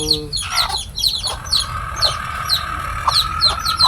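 Labuyo-breed chickens clucking close by, with repeated short chirpy calls over a steady background of other birds; no talk.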